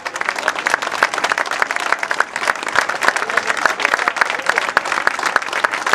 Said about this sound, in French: Et on applaudit chaleureusement